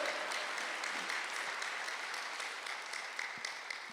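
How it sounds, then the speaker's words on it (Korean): Church congregation applauding during a Sunday worship service, a steady, fairly faint wash of many hands clapping that holds throughout with no talk over it. "빨리 박수하세요"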